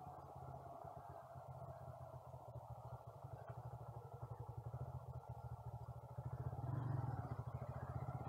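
A Bajaj Freedom 125 CNG motorcycle idles and putters through a tight U-turn, its single-cylinder engine thumping in a steady low pulse that swells slightly near the end, close by and with no talk.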